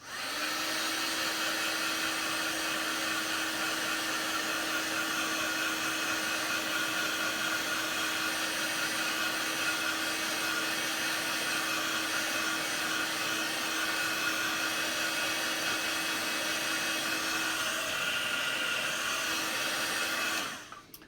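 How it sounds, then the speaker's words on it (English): A hair dryer blows steadily at close range onto paper, a continuous broadband whoosh with a constant motor hum, cutting off abruptly at the end. "one last blast with the dryer."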